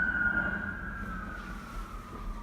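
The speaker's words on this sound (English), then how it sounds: "and siren." An emergency vehicle siren passes, a steady wailing tone that slowly drops in pitch as it moves away, heard at moderate distance over a low rumble of traffic.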